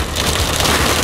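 Hail pelts down hard during a storm near a viaduct, a dense, steady roar of impacts loud and close over the whole moment.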